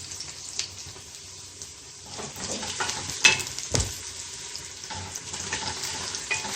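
Onions frying with cumin and whole garam masala for mutton yakhni pulao give a steady close sizzle, with scattered clinks and scraping from stirring in the pot and no talk.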